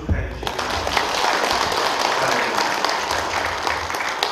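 A church congregation applauds at a Presbyterian ordination and retirement service, dense sustained clapping across a large room, continuous and fairly loud.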